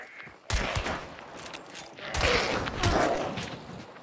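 Gunfire in the video game Hunt: Showdown erupts after a short quiet moment, with loud overlapping shots and echoing blasts that carry on in heavy bursts for several seconds.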